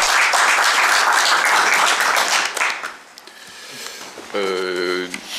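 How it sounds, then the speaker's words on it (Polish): Applause from the attendees of a Polish city council session for the treasurer, dense and steady for about three seconds, then fading as a voice begins speaking. "także wielkie brawa dla pani Edyty, naprawdę."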